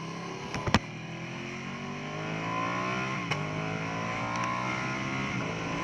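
A custom Ducati Panigale V2 on a race track: a steady engine drone rising in pitch under acceleration, with a few sharp clicks and knocks early on, heard close from the rider's position.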